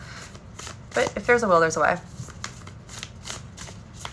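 A deck of large oracle cards is shuffled by hand, giving repeated soft riffling and slapping sounds close by, while someone talks over them.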